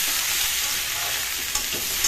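Brinjal frying in a pan with turmeric and spices being stirred in, a steady close sizzle with scraping stir strokes and no talk.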